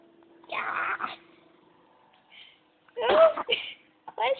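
A cat gives two short, sharp sneezes about two seconds apart, close and clear in a quiet indoor room, followed by a woman's brief speech.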